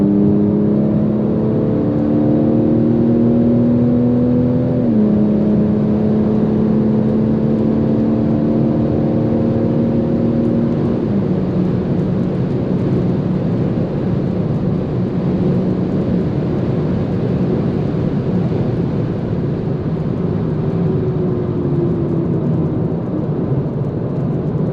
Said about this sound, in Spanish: escuchar este motor